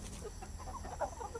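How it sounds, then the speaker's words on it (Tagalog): Native chickens cluck softly on a farm, a faint, low scatter of short clucks and murmurs with no talking. "Native chicken farm."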